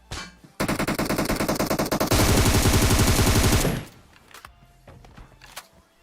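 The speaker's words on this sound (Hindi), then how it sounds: "यहाँ पे अभी गोली चलती है" Machine gun fire in PUBG Mobile: rapid, loud, close bursts of automatic shots in a sustained rattling stream lasting about three seconds, followed by a few faint thuds and clicks.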